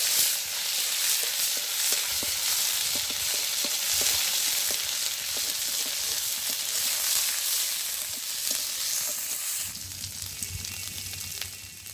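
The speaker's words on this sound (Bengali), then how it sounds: "তো এবারে আলুটা ভাজি করে নেব, এর জন্য মশলাটা কষাই নিই আগে।" Whole spices (cumin, bay leaf, coriander and pepper) sizzle in hot oil in a pan, a steady frying hiss with scattered crackles and pops, fairly close and unbroken, with no voices.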